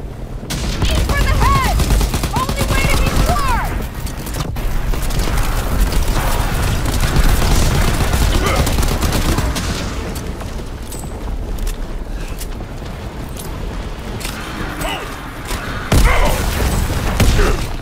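Rapid gunfire and heavy booms keep up a dense, loud barrage while players fire on a Zeppelin in a WW2 zombies boss fight, with shouted talk over the shooting and a sharp burst near the end.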